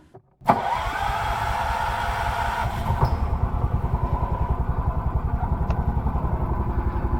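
A gasoline-electric Club Car golf cart starts up and drives along outdoors, its small engine chugging in a steady, rapid pulsing rhythm with a sharp start near the beginning and a constant close drone throughout.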